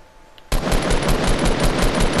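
Sustained rapid automatic gunfire in a video game bursts in suddenly after a near-silent moment, loud, close and continuous with a steady rattling rhythm.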